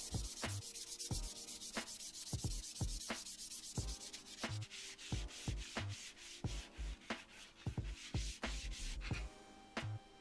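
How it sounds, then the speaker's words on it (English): Hand sanding of wooden pieces from an old office chair being upcycled into a garden chair: steady, rhythmic back-and-forth abrasive strokes, close and continuous, with sharp scraping accents on each pass. "Then I gave them both a good hand sanding to remove any dirt and to smooth them"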